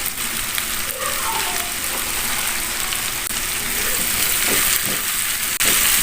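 Eggplant stir-fried in a pan with salted anchovies, a steady loud sizzle and crackle of oil with occasional scraping as the pieces are stirred.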